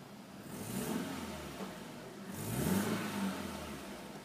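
A blue BMW 316i with a manual gearbox and a petrol engine idles and revs twice, a mid-pitched engine drone swelling and easing back, close and fairly quiet, with no talking.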